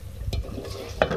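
A spoon stirring a beef and potato handi mixture in a pot, heard as soft, close scraping and sizzling, with a sharper clink near the end and no talk.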